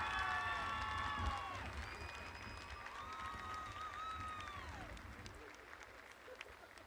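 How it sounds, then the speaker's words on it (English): Crowd applause fills a high school graduation ceremony: a broad, steady wash of clapping and cheering from an audience, with some voices and shouts mixed in as it gradually fades. "One more round of applause for all of these wonderful kiddos."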